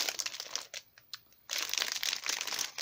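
Ribbon and gift wrapping handled up close, giving loud, dense crinkling in two bursts separated by a short quieter pause.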